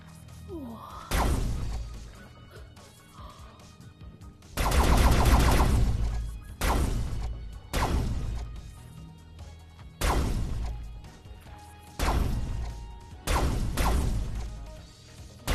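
Laser-style guns fire at targets in Ziggy's Cosmic Adventure, in repeated loud bursts with sharp crashing hits, separated by brief quieter gaps.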